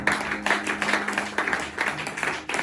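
A church seminar congregation claps in acclamation of Jesus, a brisk rhythmic patter of many hands with regular pulses throughout, fairly close and unaccompanied by talk.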